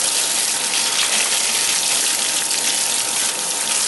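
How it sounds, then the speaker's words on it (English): Water runs steadily from a tap over a disassembled gun being rinsed in a shop, a loud, constant broadband gush with no breaks or voices. "sticking a gun under running water"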